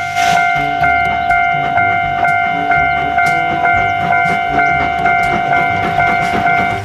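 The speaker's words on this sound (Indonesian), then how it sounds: "ini kereta api Thomas, teman" A Thomas toy train runs with a steady whistle-like tone and rhythmic clicking, loud and close, with no talking.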